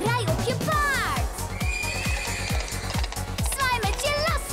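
A horse whinnies loudly in a children's TV series, with repeated neighs over steady rhythmic clip-clop hoofbeats that run throughout the short stretch.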